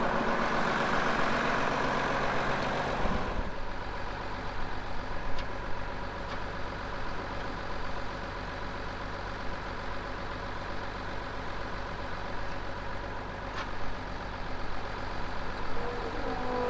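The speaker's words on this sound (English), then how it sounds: "like to start the truck" A farm truck engine idles steadily on an Australian property during seeding season, a low, even rumble holding constant after a louder, rougher opening few seconds, with no talking.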